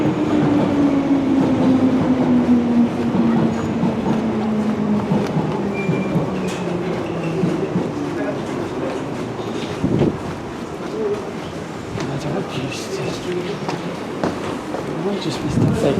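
London Underground train running on the Bakerloo line area, a steady loud rumble with a falling motor whine and clattering wheels on track, continuous and close throughout.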